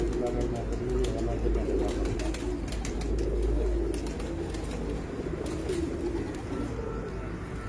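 A slate-coloured pigeon hen coos in low, rolling phrases over a dense, steady loft background, with voices murmuring underneath.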